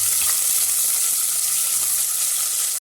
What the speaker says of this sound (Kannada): ಇವಾಗ ಹಾಕ್ಕೊಂಡು ಬ್ರೌನ್ ಕಲರ್ ಬರೋ ತನಕ ಫ್ರೈ ಮಾಡ್ಕೊಳ್ಳಿ.